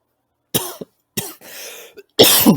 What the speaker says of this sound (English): A lot of coughing.